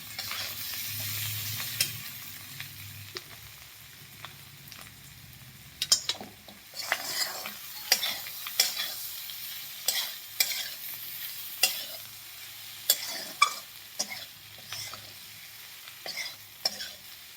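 Potato curry being stirred in a pan after salt goes in: repeated scraping clinks of a spoon against the pan over a low sizzle, at an irregular rhythm, near and moderately loud, with no talk.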